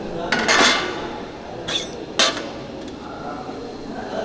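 Metal plates clatter as one is lifted from a stack at a self-service meal counter, with a few sharp clanks close by and quieter handling noise between them.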